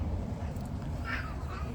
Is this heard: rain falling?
no